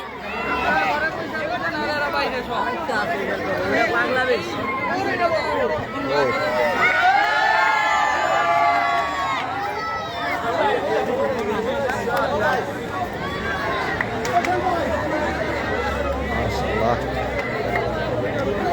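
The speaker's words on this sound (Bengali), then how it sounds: "প্রচুর ভিড়, এখানে প্রচুর লোকজন" Dense crowd chatter fills a busy cattle market at Jinjira haat where cows are being unloaded from trucks, a steady close hubbub of many overlapping voices with occasional shouts throughout.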